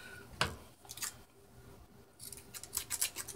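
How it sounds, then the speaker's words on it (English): Dull scissors snip through a paper greeting card in a few short, crisp cuts, with a sharp snap near the start and a quicker burst of rustling snips toward the end, close and fairly quiet. "My scissors are dull. We'll get another pair."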